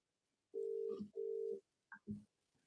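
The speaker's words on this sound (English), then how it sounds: "It's ringing." Outgoing phone call ringing tone heard during a live football watchalong: two long, steady buzzing tones in a paired ring pattern, followed by brief softer sounds, fairly quiet and without talk.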